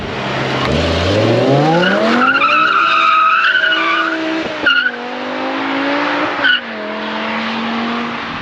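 A BMW M5 E60 V10 engine revs up high and holds while tires squeal in a long, loud drifting skid, with a couple of short bumps as the slide continues.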